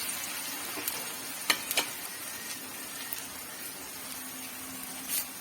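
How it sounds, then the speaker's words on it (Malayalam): Garlic, ginger and bird's eye chili frying in oil for a mango and carrot pickle, a steady soft sizzle with a few brief crackles and stirring clicks, heard up close with no talking. "വെളുത്തുള്ളി ഇഞ്ചി ഇട്ട് അതൊന്ന് ഒരുമാതിരി മൂത്തിട്ട് നമുക്ക് കാന്താരി ഇടാം."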